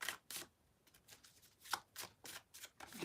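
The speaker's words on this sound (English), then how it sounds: "Okay, I'll pull you a card." Tarot cards being shuffled and drawn, a series of quick papery riffles and flicks in irregular bursts, close but quiet, with no voices.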